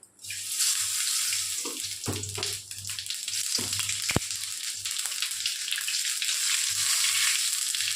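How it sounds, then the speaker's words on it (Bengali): Dried chillies, bay leaf and whole cumin dropped into hot oil in a wok, making a loud continuous hiss of sizzling, close by, with a few faint clinks and no voices. "এবার কড়ার মধ্যে আমি তেল দিয়ে নিচ্ছি। দিয়ে সাথে শুকনো লঙ্কা, তেজপাতা আর গোটা জিরে"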